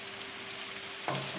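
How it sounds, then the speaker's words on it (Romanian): Mushrooms with salt frying in hot oil, a faint steady sizzle that swells briefly louder near the end of the short moment. "Peste uleiul încins adăugăm ciupercile, apoi sare."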